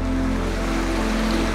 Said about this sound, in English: the water is just pouring through